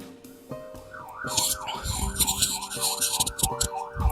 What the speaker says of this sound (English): Or that ambulance that's just outside of my window.